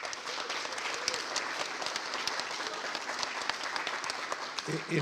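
Attendees at an annual meeting applaud James Litley with sustained, even clapping from a sizeable crowd, heard somewhat distant and moderately quiet, holding steady for about five seconds.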